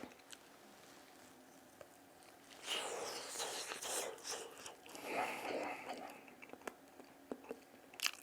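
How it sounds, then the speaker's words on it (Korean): Someone eats a freshly peeled, hot steamed potato, with soft chewing and biting sounds close to the mic, irregular and fairly quiet, over low room noise. "찐 감자 한번 먹어보겠습니다"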